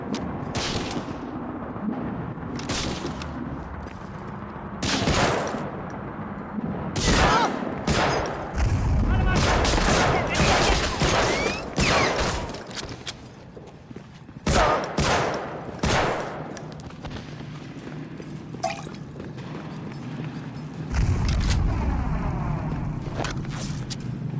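In Medal of Honor: Frontline, an M1 Garand fires as irregular single shots mixed with heavier bursts and distant explosions, loud and sharp throughout, with occasional speech underneath.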